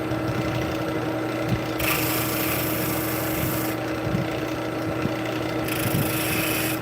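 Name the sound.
wood lathe turning with spindle detail gouge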